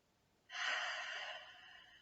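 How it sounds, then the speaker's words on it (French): A single breath, slow and relaxed, taken during a guided head, neck and arm self-massage relaxation session, drawn low into the belly at a natural pace; a soft, close, airy exhale lasting about a second and a half, alone with no talk. "Et reprends une respiration à un rythme naturel en essayant de la situer au niveau du ventre pour plus de détente."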